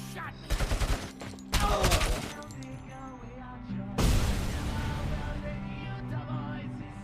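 Bursts of rapid gunfire crackle in RoboCop Rogue City, loud volleys in several clusters followed by a heavier blast and ringing battle noise, with a voice briefly audible between shots.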